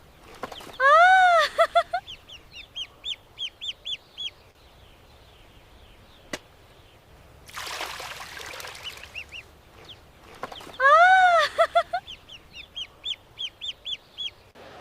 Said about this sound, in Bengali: হাঁসের বাচ্চা কিনে আনো, আমি হাঁস পালন করব। এই দেখো নিয়ে এসছি।